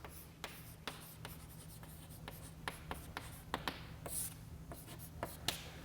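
Chalk or marker strokes on a board during a statistics lecture, a steady series of short scratchy taps and scrapes with irregular rhythm, close and fairly quiet, alone without talk.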